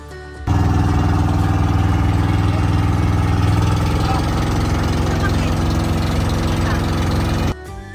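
A steady low engine drone runs unchanged for several seconds, loud and close, like a boat motor idling, then cuts off near the end.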